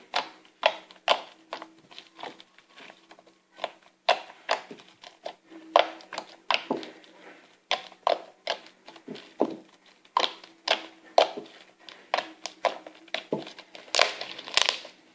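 Repeated wet squishing and crackling pops as slime is pressed, stretched and pulled, in uneven bursts with no speech.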